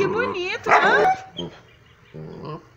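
A small puppy whines and yips in rising, wavering cries, close to the mic, with a short bark-like burst and a quieter whimper after a pause.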